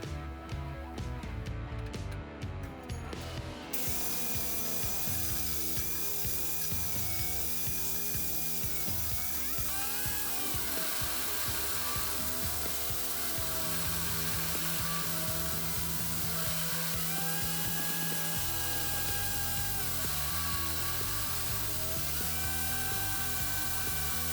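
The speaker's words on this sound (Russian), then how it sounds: "Буду равнять контуры и выпиливать нужные мне линии." A metal knife blade being filed and sawn along its contours makes a continuous, loud, harsh rasping, with a grating rhythm that shifts as the strokes change.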